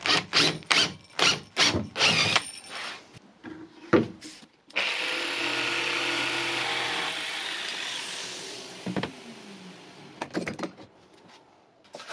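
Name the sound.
power drill drilling out waste wood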